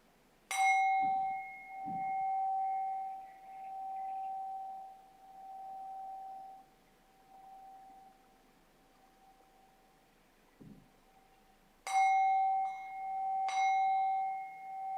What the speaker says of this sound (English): when you hear the bell, bringing the practice to a close